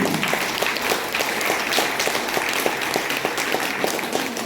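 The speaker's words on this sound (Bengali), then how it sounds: "আপনাদের প্রত্যেককে অনুরোধ করবো জোরে একটা করতালি দিয়ে" Crowd applause at a village road inauguration under the Pathashree scheme in Bhanjipur, Tarakeswar, a dense, steady burst of many hands clapping that carries on without a break for several seconds.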